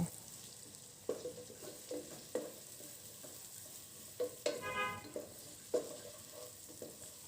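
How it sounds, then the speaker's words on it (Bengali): Spices and chopped onion are stirred in a frying pan for chicken biryani, giving a faint steady sizzle with scattered scraping spoon strokes. "যে মশলাগুলো আমি উঠে রাখছিলাম সেগুলো দিয়ে একটু পেঁয়াজ কুচি দিয়ে নাড়াচাড়া করছি।"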